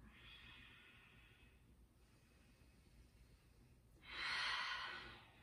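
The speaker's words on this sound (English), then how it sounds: "Take a breath in and a big breath out." A deep exhalation during yoga breathing, a faint breathy hiss followed by a louder, fuller outward breath near the end, close and soft in an otherwise quiet room.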